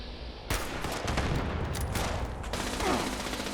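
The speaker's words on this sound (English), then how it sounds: "Gatling lasers do leave a mark." Gatling laser fire in the video game Fallout 76 erupts as a loud, dense sustained burst of rapid shots, continuing steadily for a few seconds.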